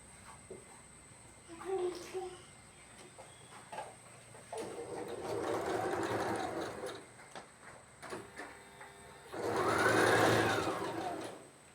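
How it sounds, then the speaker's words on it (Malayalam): Sewing machine stitching the neckline of a nightie in short bursts of rapid whirring, with a longer run near the middle and a loud final burst, close, with light handling clicks between runs. "ഇങ്ങനെ കഴുത്തിൽ വെച്ചൊരു കാലിഞ്ച് തയ്യൽ തുമ്പ് വെച്ച് അടിച്ചു കൊടുക്കാം"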